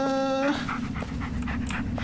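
A dog named Bullet in the Blair Witch video game pants and lets out a high whimper, then keeps up quick, close breathing against a steady low background hum.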